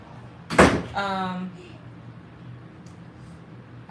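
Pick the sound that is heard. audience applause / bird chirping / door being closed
door being closed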